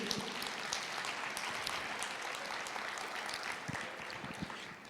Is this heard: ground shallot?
no